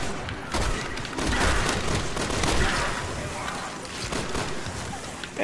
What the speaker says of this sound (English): Unload many, many shots.